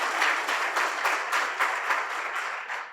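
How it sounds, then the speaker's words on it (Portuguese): Audience applause at a business leaders' meeting, a steady dense crowd clapping throughout, moderately loud with no talk over it. "eu queria pedir uma salva de palmas a Dr. Christopher Garman, Ana Amélia, Loriva"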